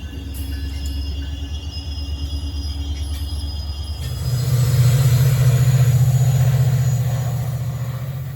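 MARC commuter train 878 passes in Maryland, a steady rail rumble that swells louder midway as the cars roll by close, then eases slightly toward the end.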